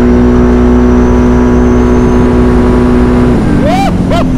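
A vehicle engine revs hard in neutral, a steady loud drone that swells and pitches up near the end with a rising whine, heard close with voices mixed in.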